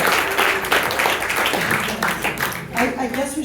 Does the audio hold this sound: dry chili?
no